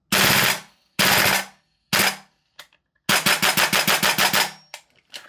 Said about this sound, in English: And then we go to full auto.